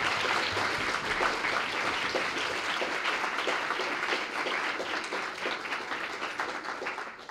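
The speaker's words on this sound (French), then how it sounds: "Applaudissez tout le monde s'il vous plaît." Audience at the final of an eloquence contest gives sustained applause, a dense steady clatter of many hands heard from within the hall, gradually thinning toward the end.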